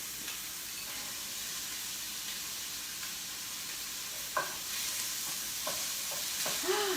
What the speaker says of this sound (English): we're going to add these to this shallot and garlic and ham mixture and just toss everything together.